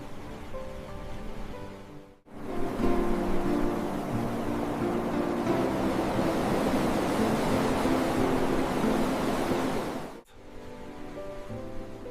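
Ocean waves wash in along a tidal shore, a broad hiss that swells and holds steady for several seconds, then cuts off sharply, with quieter surf before and after.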